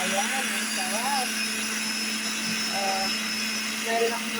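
A blender whirs steadily while blending young coconut (buko) in the early morning, a constant motor drone running throughout with some faint tonal sounds over it.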